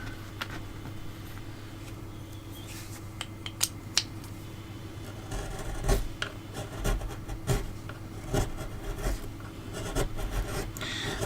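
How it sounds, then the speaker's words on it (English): A gouge carves a wooden dragon in short, dry scraping strokes with scattered sharp clicks as the blade catches the wood. The sound is close and steady, and nobody speaks. "This gouge is relatively safe because the edge there rests against the piece, and so I can't cut into it"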